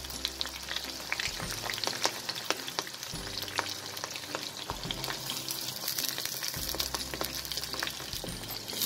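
Onions, green chilli and carrot fry in hot oil for veg biryani, a steady close sizzle and crackle with a low periodic rumble underneath, no voices.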